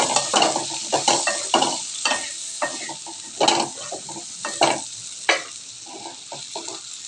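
Ground spices, including chili powder, fry in a pan with a bubbling sizzle under repeated rhythmic stirring scrapes and taps of a spoon against the pan. No voices.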